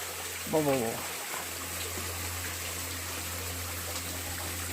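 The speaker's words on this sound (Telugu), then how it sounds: "ఇక్కడ జలపాతం దగ్గరికి వచ్చాము" A waterfall in the hills at 1000 Nuthula Kona roars steadily in the rain, a dense rushing wash of water that fills the whole clip, with a brief voice-like sound near the start.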